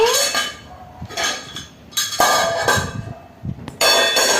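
A child plays with a lid and a wok, producing bursts of metallic clanks, clinks and scrapes in irregular clusters, loud and close, separated by brief quieter gaps.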